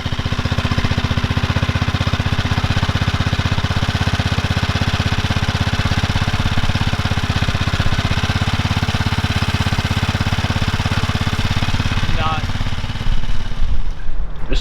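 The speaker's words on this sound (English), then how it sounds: "It's ticking over a little bit fast" An outboard boat engine idles steadily and loudly for about fourteen seconds while it is flushed with water. Its rhythmic mechanical chug holds even throughout, and the sound shifts slightly at the very end.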